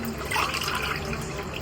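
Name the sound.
water poured into rice for mushroom biryani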